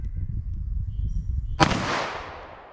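A single sharp gunshot from a .380 ACP pistol loaded with Underwood Xtreme Defender +P ammunition, a loud crack outdoors with a ringing decay fading over about a second after quiet ambience.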